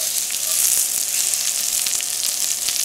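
Vegetables browning in a pot of hot oil for a Jamaican vegetable stew, giving a steady, close sizzle and crackle with small pops throughout and no talking.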